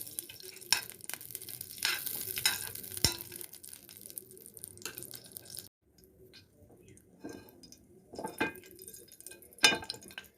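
Homemade ghee heating in a pan, with faint sizzling and occasional clinks and scrapes of a utensil, close and fairly quiet with brief pauses.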